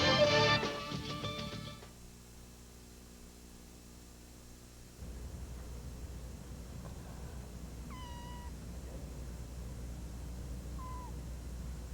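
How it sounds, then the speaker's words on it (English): A small, lively cat meows a few short times in a quiet television studio during a 1999 Humane Society segment in Clarion, Pennsylvania, with steady low room hum underneath. "I have a rambunctious little cat over here."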